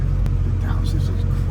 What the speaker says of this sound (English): The downshift is crazy on auto like that.